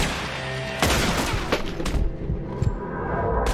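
Pistol gunshots from the video game Red Dead Redemption 2, several sharp broadband cracks at irregular intervals over a continuous busy game-sound bed, fairly loud and close.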